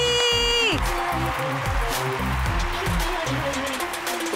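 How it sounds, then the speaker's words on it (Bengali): A studio audience at a Bengali television game show bursts into loud, sustained clapping and cheering right after a short musical sting, the dense applause filling the whole moment. "পারমিতার জন্য সবাই মিলে একটা জোরে হাততালি।"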